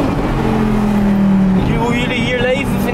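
A Lamborghini tractor engine revs loudly and continuously nearby with a steady low drone rising in pitch, while people talk over it.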